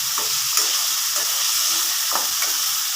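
Onions and tomatoes sautéing in oil for sambar, a loud constant sizzle close up with a few soft stirring scrapes, no talking.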